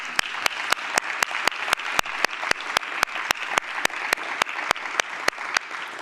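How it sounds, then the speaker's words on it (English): An audience gives one more round of applause to Top Paper Award winners at an awards event, a steady wash of clapping punctuated by sharp, evenly spaced clicks throughout. "I'm going to give you all one more round of applause."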